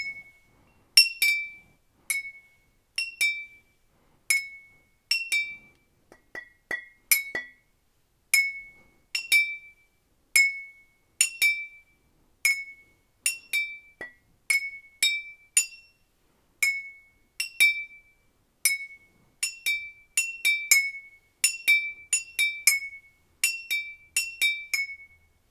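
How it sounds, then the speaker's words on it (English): Three glass jars and a larger glass bottle struck like a xylophone, a long run of bright ringing clinks at a steady pace, sometimes in quick pairs, each note decaying briefly, with no voices. "I've got 3 jars that ring out really nicely, and my bottle that does like a much deeper note because it's much bigger"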